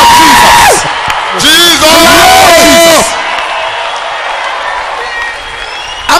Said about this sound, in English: Clap for